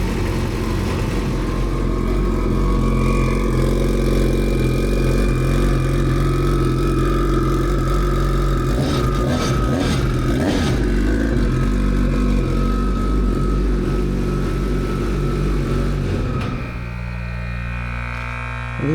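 Turbocharged mini jet boat engine running steadily at idle, a loud continuous low rumble with a brief rise in revs midway before it drops off near the end.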